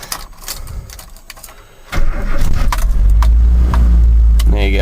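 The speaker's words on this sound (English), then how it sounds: "That's a cold start." A cold 1985 Mazda B2000 ute engine on choke: a few light clicks and rattles, then the engine catches about two seconds in and settles into a loud, close, steady idle.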